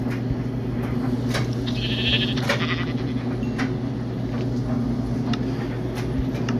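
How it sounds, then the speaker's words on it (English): Sheep bleating in the Minecraft Pocket Edition (Bedrock) video game, a few short bleats over a steady low hum of game background sound, with no talking. "Oh, another sheep."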